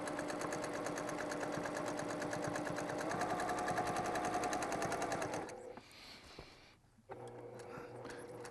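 A sewing machine quilting a T-shirt quilt runs in a steady, fast needle rhythm for several seconds, stops briefly, then starts again; it is close and clear, with no talking.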